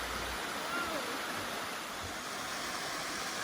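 A waterfall in Siuslaw National Forest rushes in a constant broadband hiss, steady and moderately distant, with no other sounds breaking through.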